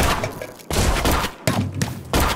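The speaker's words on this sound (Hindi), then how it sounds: "चलिए फटाफट रिवॉल्वर की गोलियों से सर भूनते हैं" Revolver shots from the video game Gumslinger crack out in three loud, close bursts, each blast followed by a short rumbling tail, with no talking over them.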